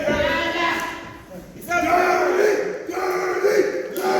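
Wrestling crowd at an independent CCWA show roaring and chanting steadily over the full length, with a commentator's voice riding above the cheers.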